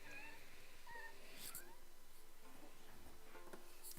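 A pet cat named Lisa meows several times while playing indoors, faint and somewhat distant, the short cries spread across a few seconds over a steady background hum.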